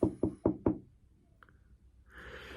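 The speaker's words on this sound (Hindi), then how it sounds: "एक घर में जाकर एजेंट ने खटखटाया।" Someone knocks on the door of a small mud-and-wood house, four quick, sharp raps in an even rhythm, close and clear, followed by quiet and faint background rustle.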